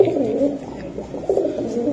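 Pigeons coo at a bustling pigeon market, soft low rolling calls repeating close by over a light background murmur of people.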